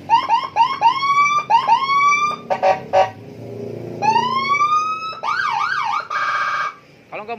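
An aftermarket siren unit on a Yamaha Nmax scooter runs through several modes up close: rising whoop sweeps, quick stuttering tones, a warbling wail and a harsh buzzing yelp, each loud and abrupt, ending with short blips.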